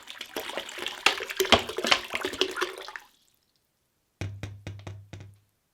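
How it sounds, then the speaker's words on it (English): Ordinary tap water splashes and gushes steadily into a bucket for about three seconds, then stops; a few sharp knocks follow after a short silence. "let's grab a bucket and add 4 litres of water."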